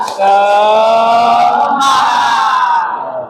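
A classroom of students shouts a spirited chant in unison, loud and close, the massed voices rising and holding before trailing off.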